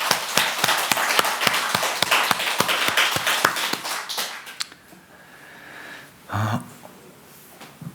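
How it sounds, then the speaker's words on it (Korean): A church congregation at a Sunday worship service claps together, a dense burst of hand claps for about four and a half seconds that then dies away into quiet room tone, followed by a brief low thump. "우리 박수로 하나님께 영광을 돌려드립시다."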